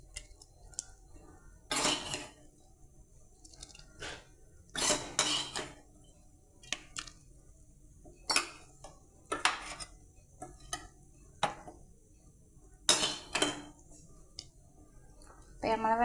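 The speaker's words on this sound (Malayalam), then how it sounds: "ഇപ്പോൾ നമ്മളെ വെണ്ടക്ക നമ്മൾ അതിലോട്ട് ചേർത്തി കൊടുക്കുകയാണ്." Okra being added to a curry in a pan, heard as sharp metallic clangs and scrapes of utensils against the cookware in irregular bursts over a quiet kitchen background.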